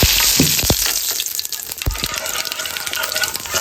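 Whole cumin seeds, dried chilies and a bay leaf crackle and sizzle loudly in hot soybean oil, a dense close-up hiss with a few sharp pops near the start and no talking.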